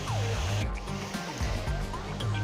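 Holfossen waterfall in Norway roars as a close, steady wash of rushing water, with a faint tonal sound running beneath it.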